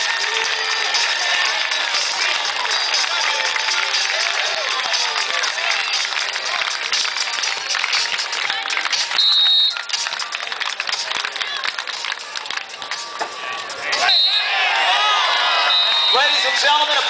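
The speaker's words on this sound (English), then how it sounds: "Gentlemen, applaud one of the great matches so far." A big outdoor crowd at the 2009 AVP Manhattan Beach Open beach volleyball final roars, cheers and claps continuously. Whoops and shouts rise in waves and swell again near the end over the sustained applause.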